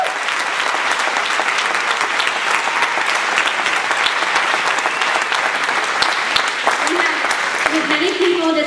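Loud, sustained applause fills the room at a charity fundraising evening, dense and even from start to finish, with a voice briefly rising over it near the close.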